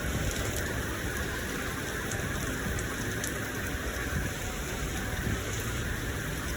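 Pouring rain beats down around a boat in Miami, a dense, constant roar of drops that stays loud and even throughout, with no voices.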